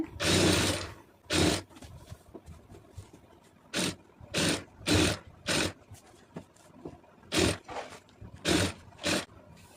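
A sewing machine runs in repeated loud bursts, stitching falls onto the inner edge of a saree, with short pauses between each run and no talking.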